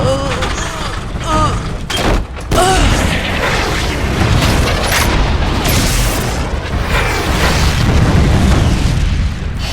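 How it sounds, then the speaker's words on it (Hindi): A barrage of micro missile explosions in an animated car cartoon booms loudly and continuously for about ten seconds, with whooshing bursts and mechanical clatter mixed in, and no talk over it. "ये लो, माइक्रो मिसाइल आक्रमण।"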